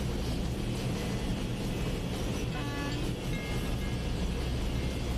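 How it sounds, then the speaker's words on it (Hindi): A WAG12B electric locomotive in a train simulator game hauls the Oxygen Express at full speed toward Surat: a loud, steady rumble of running wheels, with brief horn tones sounding midway. "यह हमारी ट्रेन सूरत की ओर फुल स्पीड से जा रही है"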